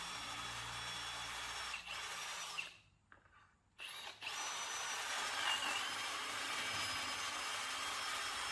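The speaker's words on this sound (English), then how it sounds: "I'm going to drill out the holes for the dowels to put in the side rail" Power drill boring dowel holes into a wooden workbench side rail through a clamped doweling jig, a loud steady whine that stops briefly, then restarts and continues.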